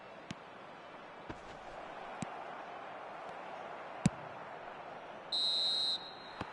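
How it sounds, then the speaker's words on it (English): Referee's whistle blown for half-time at a soccer match between Oakland Roots and Arsenal: one steady, shrill blast lasting under a second, heard over a constant crowd murmur with occasional faint pops. "he's blown his whistle for half-time"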